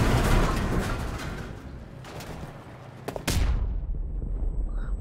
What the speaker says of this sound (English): Why did our own team member throw a fucking explosion pack at me?